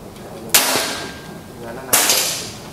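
Two sharp shots from an FX 500 cc PCP air rifle crack about a second and a half apart, each a loud snap with a short ringing tail.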